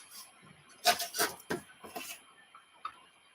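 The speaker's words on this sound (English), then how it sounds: "I'm just scraping them together so that they will kind of rub off each other." Glue-coated craft pieces are scraped and rubbed against each other, giving a few short, dry rasping strokes close by and moderately quiet, followed by a faint tick.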